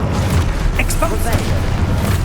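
The Expulso spell in Hogwarts Legacy detonates with a loud, close, muffled blast and rumble, with brief magical crackles over it and a voice shouting nearby.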